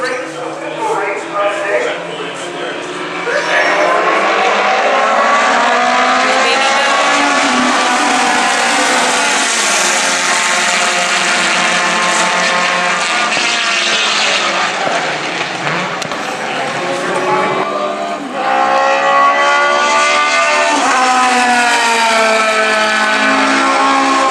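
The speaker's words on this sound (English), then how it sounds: "I let the native audio run on those last two clips just because the sound from the cars is so" Vintage race cars scream past at Buttonwillow during a VARA Group 6 race, engines loud and close with rising and falling harmonic whines as they shift gears and accelerate, one car after another.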